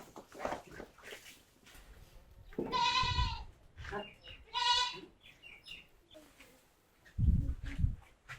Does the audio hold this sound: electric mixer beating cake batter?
no